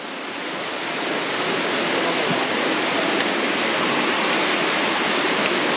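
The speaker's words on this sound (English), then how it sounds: "Look at this beautiful waterfall." A waterfall in Panamint City in the Mojave Desert pours in a steady, loud broadband rush, swelling slightly in the first second and then holding constant with no voices.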